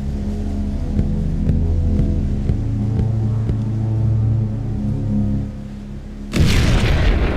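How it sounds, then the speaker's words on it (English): In the video game 3XTINCTION, a thrown grenade bursts in one loud, sudden boom near the end of the clip, cutting through a steady low game hum with faint rhythmic ticks. "Throw a grenade, but be careful not to hurt yourself."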